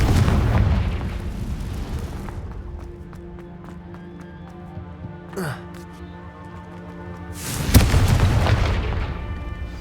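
A Confringo blasting spell bursts in the Hogwarts Legacy video game, a loud broadband boom near the start and another heavy blast around the eight-second mark, over a steady tonal game background with a brief whooshing sweep between them.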